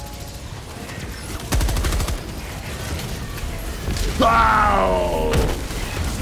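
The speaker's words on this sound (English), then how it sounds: "Calling in an HE barrage on the tank!" High-explosive artillery barrage called down on a tank in the Helldivers 2 video game: loud bursts of gunfire-like blasts and booms over a rumbling battlefield, with a shouted exclamation and players talking throughout.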